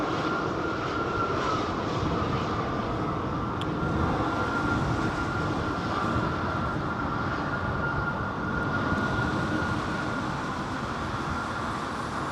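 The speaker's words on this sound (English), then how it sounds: "this is what we call idle reverse, folks, where the reverser doors will be opened" An airliner landing at Heathrow with idle reverse thrust gives a steady, loud, broadband engine roar and rushing air that holds evenly throughout, with no voices.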